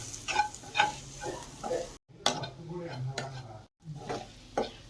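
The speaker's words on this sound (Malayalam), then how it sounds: "അപ്പോൾ മസാലകളൊക്കെ ഇട്ട് ഒന്ന് മൂക്കട്ടെ കേട്ടോ ചെറുതായിട്ട്." Masala spices with a quarter spoon of Kashmiri chilli fry on low flame for a paneer and okra curry, giving soft, quiet sizzling broken by scraping stirs and short pauses.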